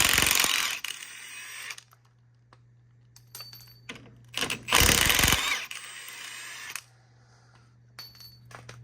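Power tool, likely an impact driver, backing out the two 15 mm bolts on the lower strut assembly of a 2007-2020 Chevrolet Suburban during an air suspension delete, heard as a loud buzzing burst near the start, then louder bursts mid-clip over a steady low hum.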